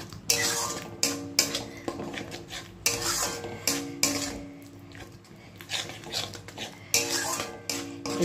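Yogurt and spices are stirred and sautéed in a pan, with repeated close scraping and rasping strokes of a spoon against the metal in an uneven rhythm, fairly quiet.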